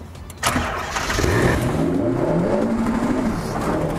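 A Ferrari 458 Challenge race car engine catches on a starter, then settles into a loud, steady, close idle with a slight rising rev.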